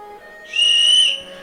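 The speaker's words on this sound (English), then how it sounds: "There was a loud whistle." A loud, clear whistle rings out for about half a second, a bright sustained tone rising above a faint background hum.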